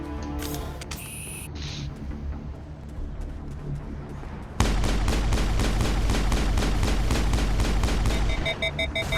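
Gunfire in the Mass Effect video game: scattered shots and effects at first, then a loud, sustained burst of rapid automatic fire that continues to the end, with no talk.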